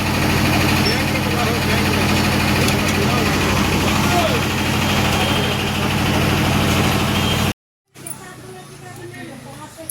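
A vehicle engine runs steadily while the car is turned around, a loud continuous low rumble with voices over it, then an abrupt cut to a quieter, fainter engine hum.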